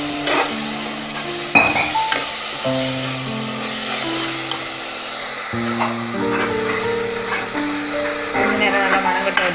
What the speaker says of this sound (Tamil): நல்லா கலந்துக்கோங்க.